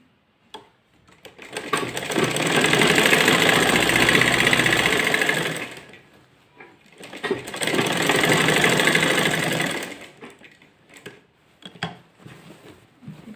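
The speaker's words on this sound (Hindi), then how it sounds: "अब इसको इस तरह से हम सिलेंगे, बीच से बराबर कर देंगे।" An electric sewing machine stitches a salwar in two long continuous runs separated by a brief pause, loud and close, its rapid mechanical whir steady throughout.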